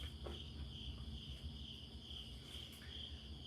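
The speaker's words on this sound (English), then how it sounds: "Oh, it must be the grasshopper in this one." A grasshopper chirps in a steady, continuous high-pitched trill that holds alone at a fairly quiet level throughout.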